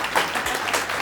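A studio audience applauds on a Macedonian talk show, a brief burst of dense, loud clapping heard alone.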